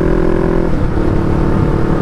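A Riva 500R with a two-cylinder Twister engine accelerates on a road, a loud, close, steady engine drone with a brief tonal whine at the start easing into a continuous rumble.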